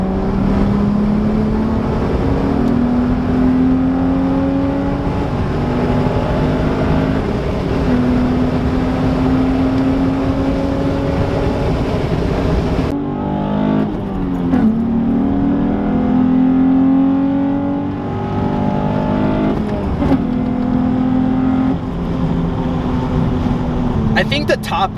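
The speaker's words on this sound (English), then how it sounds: "We're gonna go ahead and give this a test drive, see if we hear any difference in sound." An Infiniti G35 fitted with a JWT Pop Charger intake accelerates hard on a test drive, its engine note climbing in strong rising sweeps, dropping at a shift near mid-clip and then pulling up again, loud and close from inside the car.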